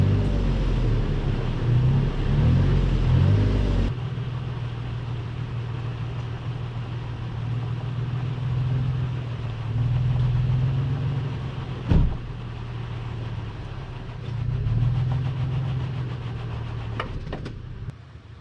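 A Toyota FJ Cruiser stuck on an off-road trail at Elbe Hills revs and eases repeatedly as it rocks back and forth, engine droning in surges with a sharp knock midway.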